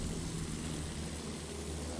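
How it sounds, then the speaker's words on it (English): Airplane engine droning in the Battlefield 1 video game, a dense, steady roar at moderate loudness filling the whole stretch without clear change or voices. "Plane, under us, see."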